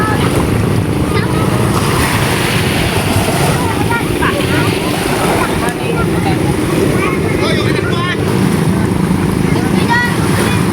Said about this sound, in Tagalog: halos lahat yata ng bangka dun sa kabila ay lumaot